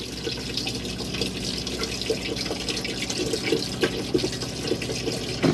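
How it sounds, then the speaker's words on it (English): Water runs and splashes steadily into the toilet bowl of an Elddis Signature 115, a continuous trickling pour with small bubbling bursts, close by. "So allow a bit of water in."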